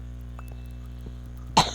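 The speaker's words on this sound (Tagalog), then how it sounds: "Umubo pa ako dun" A single short cough near the end, loud and close, after a steady low hum with faint clinks.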